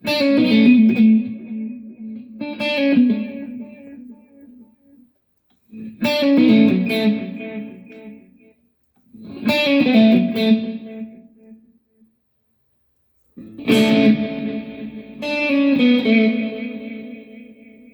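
Electric guitar phrases drenched in reverb from a Valeton GP-100 multi-effects unit, played in four loud bursts with short silences between, the notes ringing out and trailing off.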